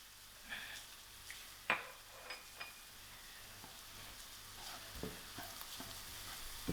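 Crushed garlic frying in a pan gives a faint, steady sizzle with occasional utensil clinks and stirring scrapes, heard quietly at a distance with no talking.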